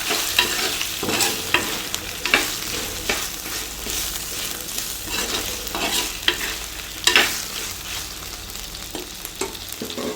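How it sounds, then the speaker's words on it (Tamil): Spicy Chintamani chicken with dried red chillies and garlic sizzles in a pan while a utensil stirs it, giving loud continuous frying hiss broken by repeated scraping strokes, with no talking. "இப்போ இதை நல்லா நம்ம கிளறிக்கலாம்."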